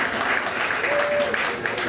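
An audience at a charity event applauds medal-winning athletes back from the World Games in Argentina, a steady, even patter of many hands clapping, moderately loud throughout.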